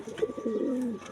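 Loft pigeons give a soft, low rolling coo, one close call that lasts about a second with no talking.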